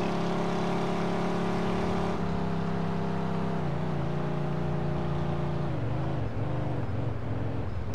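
Car engine in the game Mafia 2, a steady loud droning hum with distinct harmonic tones that dip and wobble as the revs shift, running continuously without speech.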